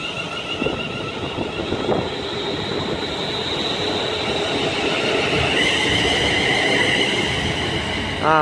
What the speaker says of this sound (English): 371 accelerating to its next stop at Crewe.